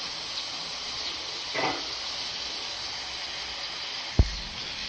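Steam hisses steadily from a pressure cooker cooking chicken, a constant close, even rush that runs throughout, with a faint swell early on and a sharp brief knock near the end.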